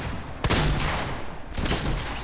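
Video game gunfire, two sharp bursts of shots about a second apart, loud and close over a steady background of game sound, with no talking.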